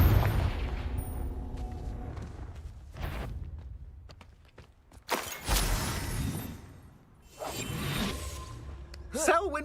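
Confringo blasting curses going off in Hogwarts Legacy, several separate bursts of whooshing impact and crackling explosion spread across the stretch with quieter gaps between them, amid game combat noise.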